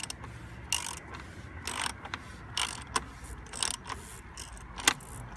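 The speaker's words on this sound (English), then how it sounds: "Then I'm going to use the wrench to tighten it down." A wrench tightening the oil filter cover on an Audi A6 C7 2.0 TDI, with quiet, irregular ratcheting clicks and metallic ticks spread over a few seconds.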